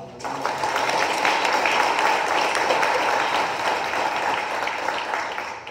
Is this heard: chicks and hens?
no